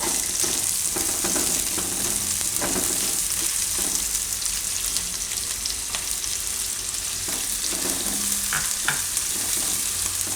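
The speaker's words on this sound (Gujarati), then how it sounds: "હવે આમાં નાખશું આપણે ડુંગળી." Onion dropped into hot oil with cumin and curry leaves for mix veg khichu, a loud, dense, continuous sizzle with scattered crackles and stirring scrapes, close and steady throughout.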